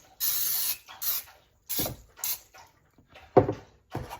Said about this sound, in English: We're going to spray this small pan with some non-stick cooking spray